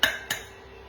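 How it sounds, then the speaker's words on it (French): Two eggs cracked against a hard edge for brownies, two quick sharp taps in close succession, near and fairly loud. "on va tout simplement casser les œufs"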